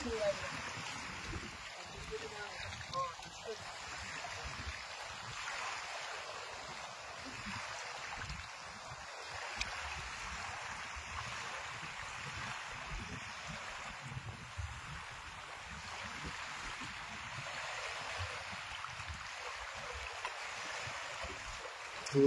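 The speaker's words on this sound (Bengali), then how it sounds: "আর ঢেউটা চলছে দেখুন।" River water lapping and flowing beside a small boat, producing a soft, continuous wash of waves at moderate distance with low rumbling underneath; a voice speaks faintly at times.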